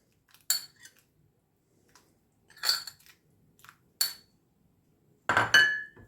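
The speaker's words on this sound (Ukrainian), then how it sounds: "І також гарно розмішую все." Spoon clinking against a pot while cheese soup with melted cheese and potatoes is stirred, a few separate scraping knocks spaced apart and a louder clatter near the end, no talk.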